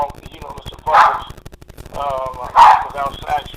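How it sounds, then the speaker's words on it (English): A dog barks twice, loud and close, in a quick pair of woofs, over someone talking steadily. "That's my dog, Mr. Parker."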